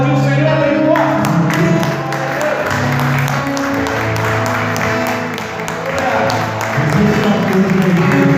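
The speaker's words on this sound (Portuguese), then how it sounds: "Pode aplaudir o Senhor, aleluia." Church congregation clapping and applauding during a Portuguese-language worship service, a sustained dense wash of hands beneath music and voices, loud and continuous throughout.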